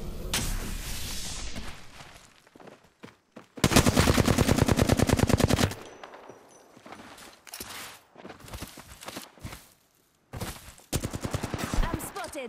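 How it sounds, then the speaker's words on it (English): Apex Legends video game gunfire: a short automatic burst, then a longer sustained rapid-fire stream, followed by scattered shots, footsteps and mechanical clicks, with a voice speaking in between. "I'm spotted, taking fire."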